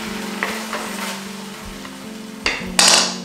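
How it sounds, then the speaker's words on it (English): Roughly chopped garlic sizzles in a pan as a utensil stirs it, with soft steady frying broken by a few scraping taps and a louder clatter near the end, close and without talk. "We got three cloves of garlic. We're gonna give those a rough chop as well and throw those in. And give that a stir."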